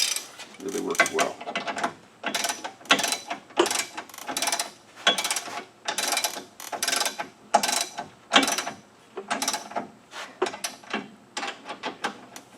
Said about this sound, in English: This is a nice proto wrench. Really works well.